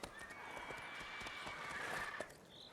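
Roach the horse gallops with rapid hoofbeats and a loud neigh in the video game Witcher 3, the thudding stride continuing under a whinny that rises and fades, quiet and slightly distant in the mix.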